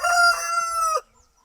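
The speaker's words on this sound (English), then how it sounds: "Oh, that's my rooster. He's awake." A rooster crows once, a loud, close, drawn-out cock-a-doodle-doo that cuts off abruptly, followed by near silence.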